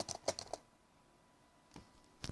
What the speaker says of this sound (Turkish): Şöyle bir şeyler yazıyorum şu anda.